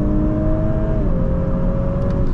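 A 2022 Audi S5 3.0T Sportback launching hard from a stop, its engine note rising steadily as it accelerates, loud and close from inside the cabin with a brief shift dip partway through.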